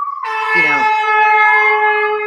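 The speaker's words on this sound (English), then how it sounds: "we have like major ambulance action happening out there" An ambulance siren passing outside during an indoor panel discussion, a loud sustained wailing tone that swells in and holds steady.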